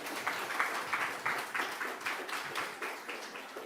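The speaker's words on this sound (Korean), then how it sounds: "목사님 나오실 때에 우리 큰 박수로 환영을 하겠습니다." A church congregation at an afternoon worship service gives a warm round of applause welcoming the pastor, a dense, rhythmic wash of clapping, somewhat distant and soft, holding steady throughout.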